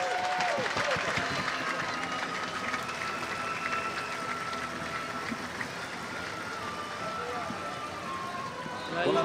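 Crowd applause at a women's canoe polo world championship gold match, greeting the Great Britain team, a steady broad wash of clapping and crowd noise held throughout with an announcer's voice over it.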